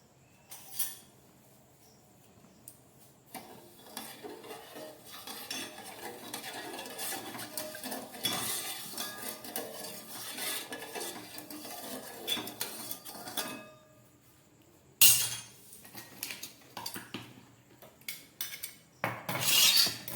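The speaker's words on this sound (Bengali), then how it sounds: "এবার এই চিনিটা দিয়ে একটা পাতলা শিরা বানানো হবে" A metal spoon stirs sugar and water into a thin syrup in a pot, giving repeated scraping and clinking strokes with louder sharp knocks near the end, and no voices.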